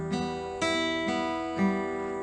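Guitar fingerpicking pattern with the thumb on the sixth string and the middle and ring fingers on the top strings, four gently plucked chord strokes ringing together, soft and close with no talking.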